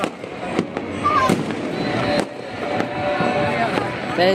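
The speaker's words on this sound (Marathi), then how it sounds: "तर बघू शकता आता फटाके फोडत आहेत, शॉट लावले आहेत." Makar Sankranti fireworks and firecrackers crackle and pop in a steady outdoor barrage in Ahmedabad, with sharp loud bangs standing out and distant voices beneath.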